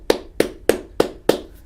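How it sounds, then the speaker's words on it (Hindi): Five sharp, evenly spaced hand claps ring out close by, in a steady rhythm about a third of a second apart, offered as applause for students in a maths class. "सबके लिए तालियां हो जाए"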